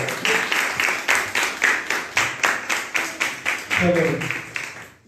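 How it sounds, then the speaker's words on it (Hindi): An audience at a church branch inauguration in Kishanganj claps in a steady, rhythmic unison, about three beats per second, for several seconds before a voice briefly starts speaking. "एक बार ताली बजाकर स्वागत करेंगे"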